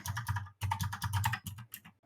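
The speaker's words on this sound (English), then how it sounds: "it's probably loud me typing on that keyboard." Rapid keystrokes on a computer keyboard, a steady run of clicks broken by a brief pause, close and fairly loud with no voices.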